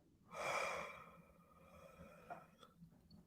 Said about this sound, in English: I tend to yawn when I start processing energy.